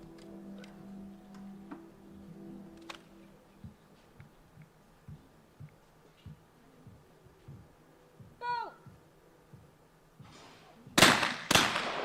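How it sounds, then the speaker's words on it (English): Two loud shotgun blasts from a skeet shooting mixed team final, sharp and close together near the end, preceded by quieter ticking and a commentator talking. "And that's a real decent couple of shots there from Amber."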